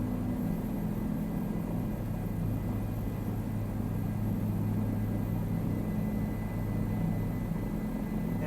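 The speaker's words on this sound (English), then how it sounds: "And by the way, I'm flying the Bell 407 today." Bell 407 helicopter in Microsoft Flight Simulator wearing Nassau County Sheriff's Department livery, flying over Long Island, New York: a steady, loud rotor and turbine drone with a low hum, unbroken throughout with no talk.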